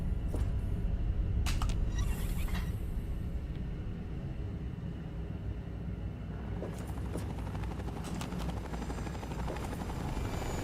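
A helicopter in the video game Fallout 3, steady rotor rumble droning throughout, loud and continuous, with a few brief sharp clicks and bursts early on.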